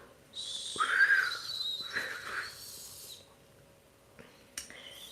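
A person whistles a few short, thin, breathy notes, fairly quiet and close in a calm indoor room, followed by a brief softer whistle near the end.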